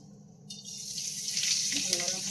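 Panch phoron spices sizzle in a generous amount of hot oil for a vegetarian potato and eggplant dish, a steady hissing crackle that swells after the first half second and stays loud and close.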